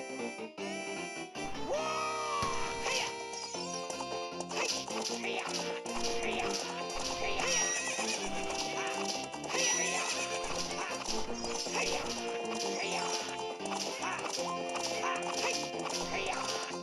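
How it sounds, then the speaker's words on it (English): Horse sounds from The Legend of Zelda: Ocarina of Time 3D video game, a whinny and clip-clopping woven into a loud, busy game music track throughout. "What's up with that horse? Is that Epona?"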